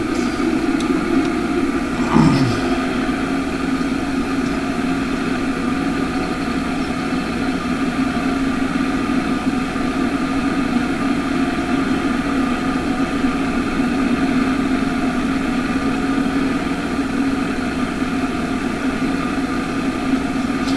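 A farm tractor engine idles close by, a steady low rumble with an even, droning hum that holds unchanged for about twenty seconds with no talk over it.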